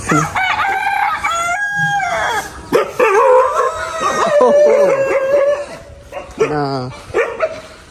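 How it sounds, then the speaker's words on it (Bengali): Roosters crow repeatedly nearby in a village yard with many hens, with a dog barking in between and people talking over the birds. "অনেক মোরগ মুরগি আছে"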